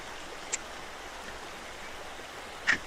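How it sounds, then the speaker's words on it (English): Water of a park lake gives a steady, soft rushing wash in the background, broken by two brief, faint clicks. "You like the water in the background?"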